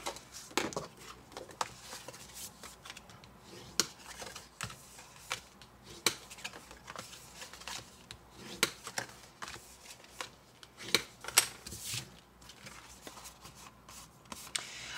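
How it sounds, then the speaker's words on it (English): Paper being folded along score lines and burnished flat, making dense quiet crackles, scrapes and sharp little ticks in an irregular run, close up and without speech. "I'm going to fold and burnish those score lines"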